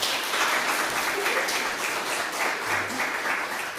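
Steady applause fills a church during a Sunday worship service, a continuous crowd of hands clapping together for several seconds with no talking over it.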